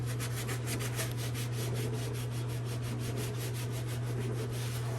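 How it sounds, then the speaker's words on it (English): A scouring pad scrubs built-up grease inside a self-cleaning oven, giving a steady, close, continuous rasping rub with rhythmic strokes over a constant low hum from the running oven. "I'm just taking a scouring pad and scrubbing"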